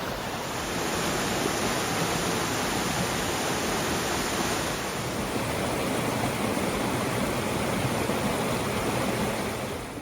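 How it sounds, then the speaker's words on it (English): Cove Creek Falls in Pisgah in winter, ice and snow around it: a loud, continuous, broadband roar of falling water, steady and close throughout with no voices. "Cove Creek Falls might be one of my new favorite waterfalls."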